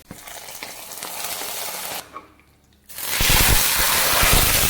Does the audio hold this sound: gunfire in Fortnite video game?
no